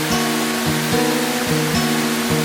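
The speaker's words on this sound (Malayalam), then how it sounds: "ഇതാണ് കുറ്റാലം വാട്ടർഫോൾസ്" Kuttalam waterfall in Tenkasi roars as a loud, continuous wash of falling water, with a stepping melodic tone running over it throughout.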